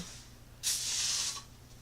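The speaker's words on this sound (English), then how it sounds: "Spray my cup with silicone first." A single steady hiss of silicone spray onto a cup, lasting about half a second, close and fairly loud, against a quiet background.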